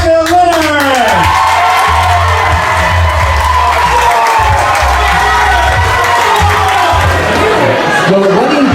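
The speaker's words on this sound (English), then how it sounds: "let's give a round of applause for Mr. and Mrs. Gustav and Becca Leonard" Wedding guests cheer, whoop and shout loudly for newlyweds Gustav and Becca Leonard, a boisterous, sustained crowd roar with high voices and excited yells over the applause.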